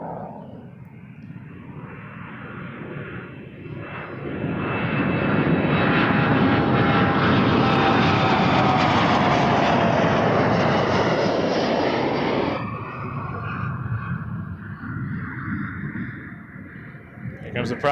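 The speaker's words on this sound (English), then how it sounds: "Here comes the prop air returning from Wawa Beach 1900D." A Beechcraft 1900D propeller plane at Toronto Pearson airport passes close, its steady engine drone building to a loud, sustained roar for several seconds before easing back.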